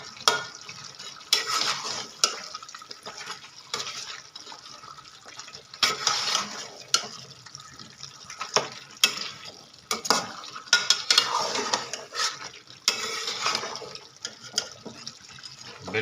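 Lightly crushed ginger is stirred into beef karahi in a pan, with a steady gentle sizzle and repeated scraping, clattering stirs coming in bursts, close and fairly loud, with no talking.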